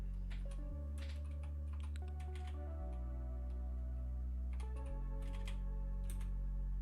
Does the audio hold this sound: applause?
no